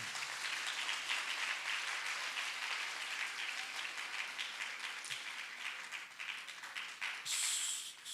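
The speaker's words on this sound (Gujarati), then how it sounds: "તમે બધા તાળીઓના ગડગડાટથી તમારું સન્માન કરો" An audience at a hospital event in Surendranagar breaks into sustained applause, dense clapping at an even level for about eight seconds before tapering slightly at the end.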